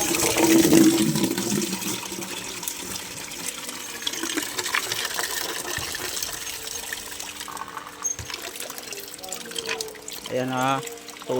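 Water splashing and trickling from a waste strainer on a mall aircon chilled water line as it is opened, an uneven close gush with metallic clinks while someone talks.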